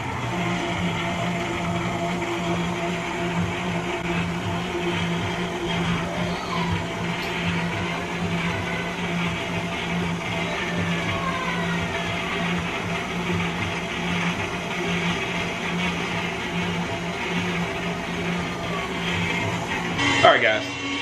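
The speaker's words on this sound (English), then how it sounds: "you're gonna need to mix this on low until evenly blended" An electric mixer runs on low through Hennessy pound cake batter, a steady, even motor whir with a faint tonal hum that continues unchanged for about twenty seconds and ends in a brief clatter.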